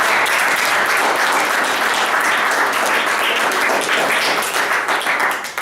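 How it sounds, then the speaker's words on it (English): Loud, steady round of applause from an audience after a student presentation at a school event, dense clapping holding for several seconds before thinning slightly at the end. "let's give them a round of applause"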